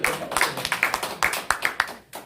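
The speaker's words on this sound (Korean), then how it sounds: "이럴 때 정말 박수를 한번 쳐야 됩니다." A few hands clap unevenly at a founding assembly gathering, a sparse cluster of close, distinct claps in a loose rhythm with brief pauses between them.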